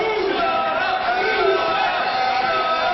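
Wrestling arena crowd jeering a manager during a title match, a steady loud wash of massed voices and chanting that holds evenly throughout with no clear breaks.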